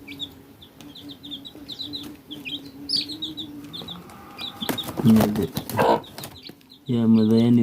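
A farm mother hen clucks softly and repeatedly amid small chirping birds, followed by louder flapping and scuffling and a burst of squawking near the end.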